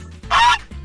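A short, loud honking squawk from a baby dodo in a video game, nasal and goose-like, bursts out alone over a low background rumble.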